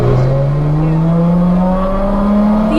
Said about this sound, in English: The acceleration was phenomenal, and the epic Ferrari V12 kept on giving more and more.